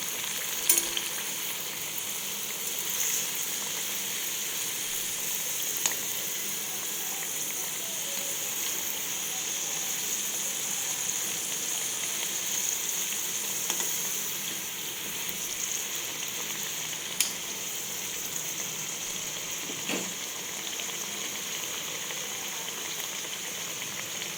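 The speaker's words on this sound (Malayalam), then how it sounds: "മീഡിയം ടു സിമ്മിൽ വെച്ചിട്ട് വേണം വറുത്ത് കോരി എടുക്കാൻ." A snack deep-fries in hot oil over medium-low heat, a steady, even sizzle and bubbling that carries on without a break, with a few faint clinks of a slotted spoon.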